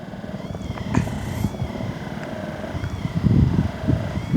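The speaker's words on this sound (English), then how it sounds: "You can start with your massage gun." A massage gun works on the hip flexor muscles with a steady, low, purring motor buzz that carries through the whole stretch, with rougher thuds near the end.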